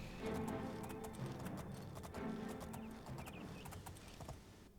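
Horse hooves clip-clopping steadily while riding in the video game The Elder Scrolls IV: Oblivion, a rhythmic, moderately near gait with faint ambient sounds behind it.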